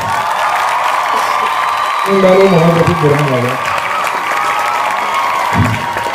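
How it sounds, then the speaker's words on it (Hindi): Crowd applause with scattered cheers for students at an award ceremony honoring top grade 10 and 12 achievers, a steady clatter under a voice reading out names over a loudspeaker. "भाई तालियों से हौसला अफजाई की जाए बच्चों की"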